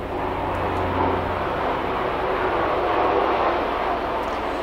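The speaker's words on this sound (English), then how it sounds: "Helicopter going over." A hospital helicopter passes over a house near Battle Creek, a steady broad rumbling drone that holds even and continuous at moderate loudness throughout with no voices.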